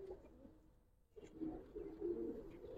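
Giribaz pigeons in a collection coo softly in a low, continuous murmur, fairly faint and close, after a brief quiet gap.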